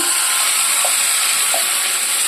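Ground paste of dry red chillies, peanuts, onion and coriander seeds sizzling steadily as it fries in hot oil for bitter gourd onion chutney, a continuous close hiss with a couple of faint clinks.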